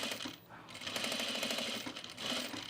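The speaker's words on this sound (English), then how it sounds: "you're just sewing to this notch right here" A sewing machine runs in quick rhythmic bursts while stitching the seam of a men's utility jacket, close and moderately quiet, with a short pause near the start.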